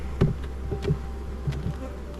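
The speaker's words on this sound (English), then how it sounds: "So we got a decent amount of bees up here working." Honey bees work in the top honey super box above a queen excluder during an April hive inspection, making a close, steady buzzing hum with a few louder buzzes as individual bees pass near.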